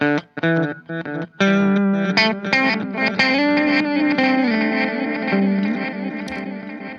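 Electric guitar notes through an EarthQuaker Avalanche Run pedal's reverse delay swell in backwards with a smeared, echoing wash trailing behind, the playing continuous and fairly loud.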